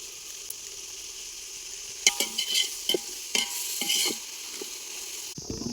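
Garlic paste fries in oil in a pan, for an egg thokku dish, under a soft steady sizzle. A spoon strikes and scrapes the pan in a run of sharp clinks midway. The cooking is close and no one talks.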